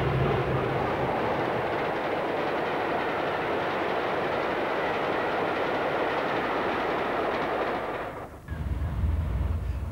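Western-class diesel locomotive D1022 Western Sentinel roars past at Mitcham, a loud, steady rumble of engine and rolling stock lasting several seconds, with the noise dipping briefly near the end and then returning as the train continues by.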